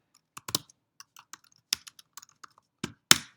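Keys clatter on a computer keyboard as commands are typed into a router terminal, a sparse, irregular run of sharp clicks with a couple of heavier strokes near the end, close and alone.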